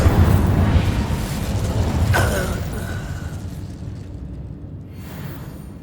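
Confringo and Incendio fire spells detonating in Hogwarts Legacy, a heavy rumbling blast with a bright whooshing streak midway, then the roar fading into a quieter tail.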